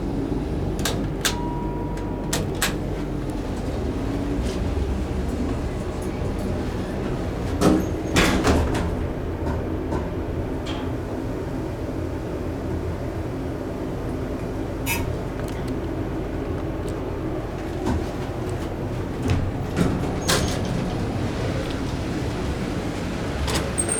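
A Dover Impulse hydraulic elevator at an airport riding with its doors working, with a steady low mechanical hum throughout, a few sliding door rumbles and scattered clicks and thuds.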